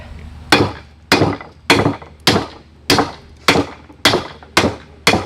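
A big hammer forges a lawn mower blade into a machete on an anvil, with nine loud, evenly spaced metallic strikes about half a second apart, each ringing briefly before the next blow.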